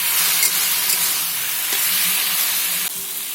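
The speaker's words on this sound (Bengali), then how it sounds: "লঙ্কার গুঁড়ো চিংড়ি মাছ দিয়ে আরও আপনারা দশ পনেরো মিনিট নাড়াবেন ডাটাটা ভালোভাবে ভাজা হয়ে যাবে" Elephant foot yam stems frying with dried chili powder and shrimp, a loud, dense, close hiss of sizzling oil that runs unbroken, dipping slightly near the end.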